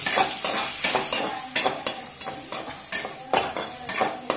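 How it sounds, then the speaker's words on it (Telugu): A spoon stirs green chilli, beans and carrot for upma in a hot pan, with a steady sizzle of frying and repeated scraping and clinking strokes against the metal at an uneven rhythm, close and fairly loud. "కలుపుతుంది ఇప్పుడు."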